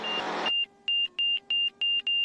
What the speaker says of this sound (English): Make the beep go away